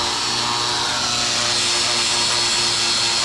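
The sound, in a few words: power tool polishing car floor metal before welding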